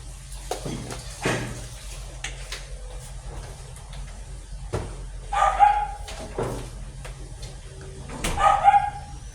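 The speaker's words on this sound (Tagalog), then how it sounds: "Maingay ang ating mga aso." Several dogs bark and yip in short, scattered bursts, some close and some farther off, with clatter and rustling in between.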